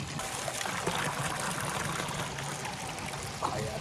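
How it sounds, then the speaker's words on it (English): Mountain water trickles steadily from a small outdoor fountain beside a hiking path near a lake, a continuous close splashing hiss with no talk. "there's this little water fountain here with what I'm assuming is mountain water"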